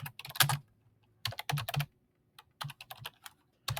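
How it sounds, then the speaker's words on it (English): Keys clatter on a computer keyboard in short bursts of rapid clicks separated by brief pauses, close and fairly quiet, while community amenities are typed into a real estate listing editor. "And type in community amenities."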